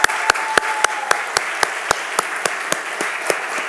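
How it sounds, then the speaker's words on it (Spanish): A conversation-event audience applauds a book fair director in dense, steady clapping, with louder close-up claps standing out at a regular beat above the crowd. "la vamos a aplaudir"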